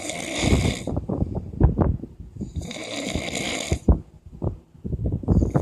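A man snores loudly and close by with a rough, rattling rhythm of repeated drawn breaths, broken by brief quiet gaps.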